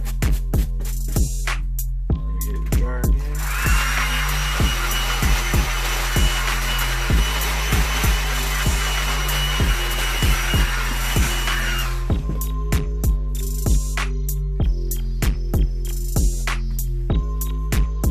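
A hair dryer blows steadily at close range for about nine seconds while drying a sneaker, a fake Off-White Chicago Air Jordan 1, with clicks and handling knocks before and after the loud, even whoosh.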